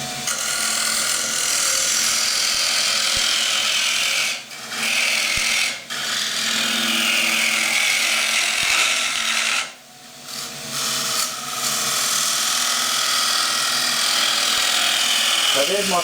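Wood lathe spinning a green timber bowl while a cutting tool scrapes steadily, a continuous loud broadband hiss with a few brief dips as the tool lifts off.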